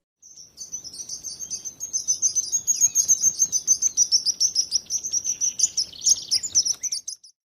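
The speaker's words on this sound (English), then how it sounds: "sparrow." A sparrow chirping in a quick, busy run of short high notes, repeated for several seconds over faint background noise, close and clear.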